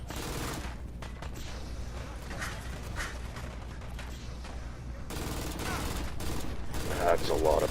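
Heavy gunfire in a war video game, a continuous loud fusillade of shots and mechanical clatter running throughout, building toward the end.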